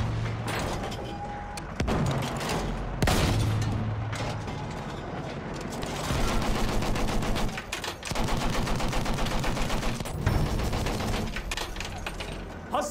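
Rapid bursts of machine gun fire in the Battlefield 1 video game on the Sinai Desert map, loud and close, with rhythmic rattling volleys broken by short pauses and heavier thuds.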